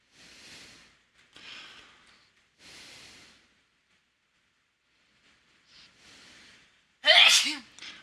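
A single loud, sharp sneeze bursts out near the end, preceded by several soft breaths and sniffs in a quiet room.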